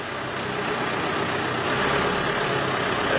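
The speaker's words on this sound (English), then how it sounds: "The vehicle starts right up, no problems." A Toyota FJ40's engine idles steadily and evenly at close range, a continuous low rumble with no voices over it.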